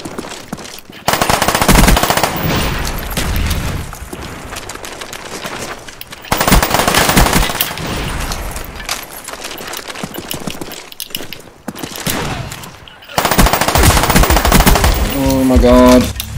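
Uzi submachine gun in Call of Duty: Black Ops firing loud, sustained bursts, three long volleys separated by short pauses, dense and close.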